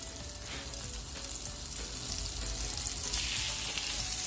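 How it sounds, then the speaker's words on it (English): Pork chops fry in olive oil and melted butter in a large skillet over medium-high heat, giving a continuous loud close sizzle that swells slightly toward the end. "Allow the butter to melt, then add the chops."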